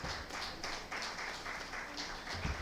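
Audience at a law week session of a Nigerian bar association branch giving a round of applause: steady, fairly faint clapping from many hands runs throughout, with a brief low thump near the end.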